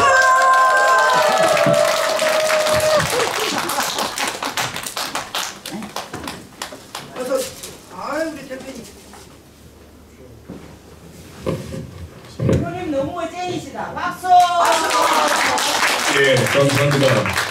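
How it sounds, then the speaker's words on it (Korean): A crowd at a singing class claps together, loud, fast applause at the start that fades into scattered claps, then swells again near the end, with someone speaking over it in the middle. "더 크게 박수!"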